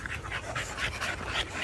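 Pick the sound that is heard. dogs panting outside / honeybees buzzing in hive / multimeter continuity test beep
dogs panting outside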